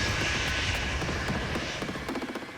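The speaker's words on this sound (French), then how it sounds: "11 h 15, l'avion vient de se poser." A jet airliner taxis toward the gate at Roissy-CDG airport, a loud, continuous engine roar with a high whine that slowly eases off and turns to a rougher, pulsing rumble as it nears.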